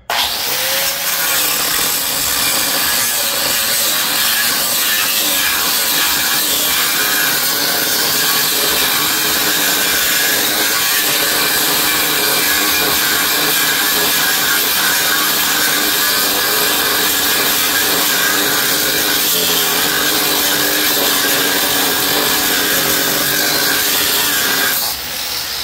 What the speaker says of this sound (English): So I'm gonna hit this side over here with my grinder